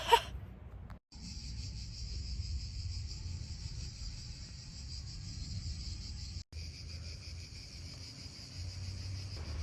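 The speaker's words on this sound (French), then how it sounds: "Avec les cigales et tout, c'est top." A steady, high buzzing drone of cicadas fills the air, continuous and fairly close, with one brief break before resuming.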